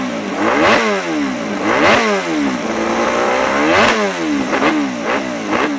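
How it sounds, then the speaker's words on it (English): A Honda RC211V racing motorcycle with a 990cc V5 engine revs hard several times, each rise in pitch followed by a falling whine, loud and close with a raw mechanical rasp and no voices. "Let's see what V5 fun exotic motorcycling sounds like."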